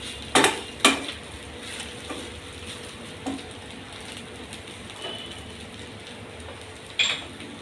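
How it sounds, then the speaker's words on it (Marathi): Flaxseed rice is stir-fried in a pan, with a quiet steady sizzle beneath sharp metallic clinks and scrapes of a spoon against the pan, a couple of strokes close together at the start and scattered ones after. "आता आपण परतून घेऊया।"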